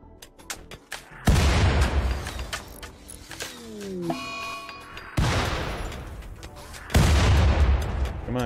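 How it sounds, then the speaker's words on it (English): Mortar rounds firing in the colony game Rimworld: three heavy, loud booms at spaced intervals, each with a rumbling tail, and a rising whine in between, with no voices. "Alright, mortar. You're gonna fire right there."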